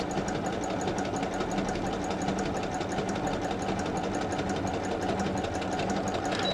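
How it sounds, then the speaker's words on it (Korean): A Brother DZ3000 household sewing machine, just repaired, running a continuous overlock test stitch; the steady, close mechanical whir holds an even rapid rhythm throughout with no talk. "수리를 마치고 오늘 발송되는 해외 직구 상품 브라더 미싱 시험 바느질을 하는 영상입니다."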